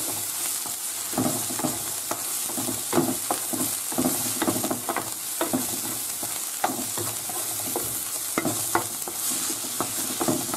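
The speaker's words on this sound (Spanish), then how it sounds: "Ya se ha sofrito la cebolla y ahora echamos el pimentón. Le damos un par de vueltas con cuidado para que no se queme." Sautéed onion and paprika stirred in a paella pan give a soft, steady sizzle, with a spoon scraping the metal in irregular repeated strokes. The whole passage is fairly quiet and close, with no talk.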